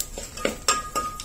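A spoon clinks and scrapes against a pan as curry leaves, turmeric and asafoetida are sautéed, with four or five short, distinct metallic strokes heard close up.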